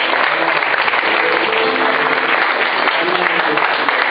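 A church congregation at a thanksgiving service bursts into steady applause and cheering, a dense, loud wash of clapping with voices mixed in throughout.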